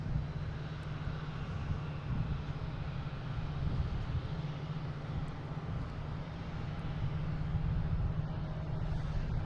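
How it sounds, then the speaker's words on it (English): A JetBlue Airbus A220 jet arriving at Boston Logan makes a steady, loud, broadband engine roar with a strong low rumble that holds evenly throughout, with no voices. "We have a JetBlue coming in from Vero Beach."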